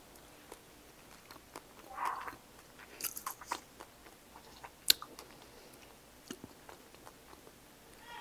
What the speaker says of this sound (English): Yep, it has the crunch from the chia seeds.